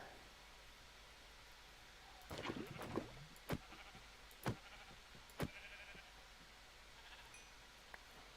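Faint bleats from sheep in the Minecraft video game, a short cluster followed by three spaced cries over a quiet, hissy background with no talk.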